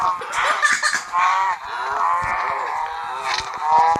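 Blocky Minecraft cows low repeatedly in overlapping, drawn-out moos from several animals, filling the whole stretch with no talk.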